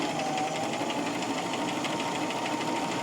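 A sewing machine runs steadily while stitching fabric for a face mask, a continuous close mechanical whir with fast needle chatter and no pauses.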